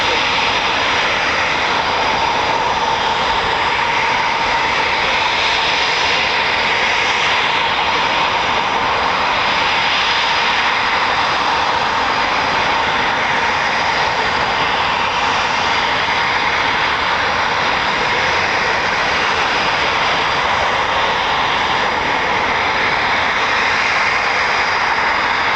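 Military jets at an RAF training, policing and QRA station, Eurofighter Typhoon FGR4 and F-35B, produce a continuous loud roar of jet engines that holds steady for the whole stretch, broad and rushing with no pauses.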